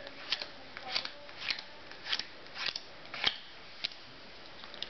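Playing cards dealt out one at a time from a single deck onto a table in a Z-shaped pattern for a card trick, quiet, with soft regular flicks and slaps about every half second.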